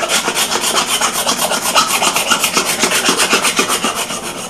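A hand scraper works steadily across wood in a wood shop, producing a rapid, even rhythm of loud rasping strokes that continue without pause.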